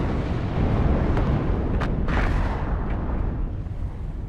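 Rocket artillery salvo fired in the WARNO Cold War strategy game: a loud, continuous roaring rumble of launches with a few sharper bursts, steady and dense for several seconds, with no talk.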